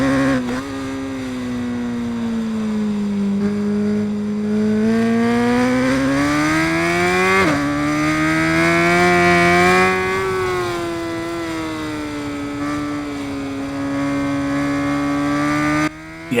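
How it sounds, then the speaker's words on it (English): A motorcycle engine in the racing game RIDE 5 revs and holds high, rising and falling in pitch with one sharp shift partway through, a loud continuous whine heard alone. "I'll let you hear the bike."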